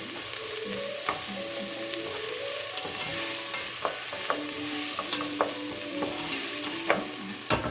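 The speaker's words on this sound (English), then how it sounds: "I'm gonna just kind of stir that around, let it all get some sizzle going" Vegetables sauté in a hot pan, a steady close sizzle with frequent scraping and clinking as a utensil stirs them around, moderately loud and without speech.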